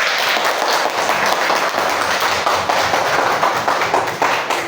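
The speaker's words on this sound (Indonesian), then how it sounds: "Kasih tepuk tangan dulu." A classroom of students claps hands together in a dense, steady burst of many overlapping claps, loud and close, with no talking over it.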